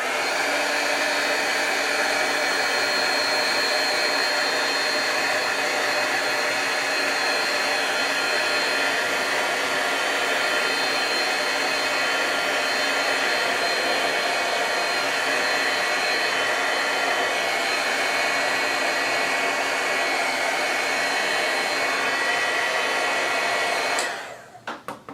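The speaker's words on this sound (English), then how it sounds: "So we're going to take the heat tool" A craft heat tool blows hot air steadily onto ribbon to give it an aged look, a loud continuous whirring hiss held close for the whole stretch before it switches off at the end.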